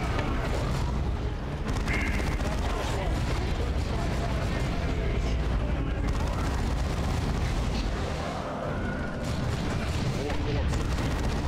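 Heavy melta cannon fire in the Warhammer 40K video game Dawn of War 2 Chaos Rising, a dense, continuous roar of blasts and booming impacts lasting throughout, with a voice talking over the battle noise.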